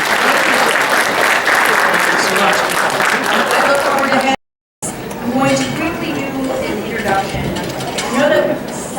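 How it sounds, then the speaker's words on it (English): A round of applause from the audience at a Detroit China Day event for the consul general, loud dense clapping broken by a brief silent gap, with voices mixed in. "round of applause for Mr. Consul General"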